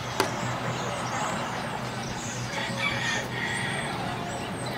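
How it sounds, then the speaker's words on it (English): A rooster crows in daytime near a chicken coop outdoors, its call moderately close over steady outdoor background noise, with a truck-like rumble underneath. "we discovered that roosters do crow in the daytime"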